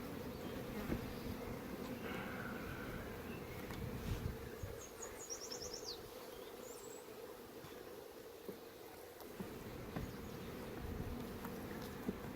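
Bees hum steadily from an open hive box during a colony check on a new split, a dense buzzing drone that fills the whole stretch, with a few brief higher chirps over it.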